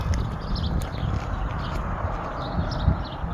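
Horse hooves clip-clop steadily amid a low, rumbling outdoor background, moderately close, with no talking.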